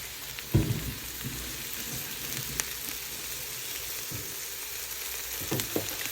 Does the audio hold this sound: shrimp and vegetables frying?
yes